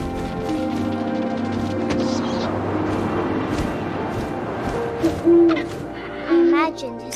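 An owl hooting in the video game What Remains of Edith Finch: two loud, sustained hoots rise over a dense, steady wash of game ambience and music, with no talking.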